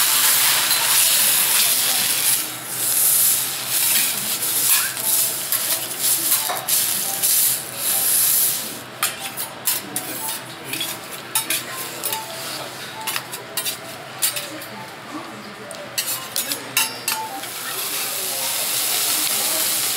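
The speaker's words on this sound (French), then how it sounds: "La cuisson du wagyu." Wagyu beef cooking on a teppanyaki grill in Tokyo, a loud steady hiss of searing with bursts of metal spatula clinks and scrapes against the hot plate.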